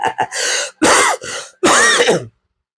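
A person recovering from illness clears their throat and coughs several times in quick, harsh bursts, close up, then silence.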